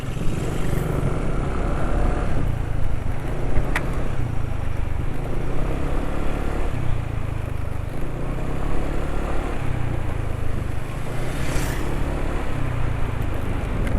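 A motorcycle engine running on Federal Supreme XX oil drones steadily at close range, a continuous loud low rumble with no talking.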